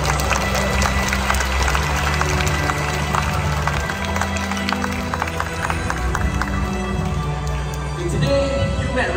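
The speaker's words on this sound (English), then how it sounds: "So let's give them a big round of applause." Audience at a bird park show for raptors and scavenger birds clapping and cheering, a loud sustained applause with crowd noise and low rumble underneath, tapering slightly near the end.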